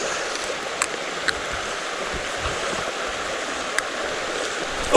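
A fast-flowing trout stream rushes and gurgles in a steady broadband wash, with a few faint ticks and splashes over the continuous water noise.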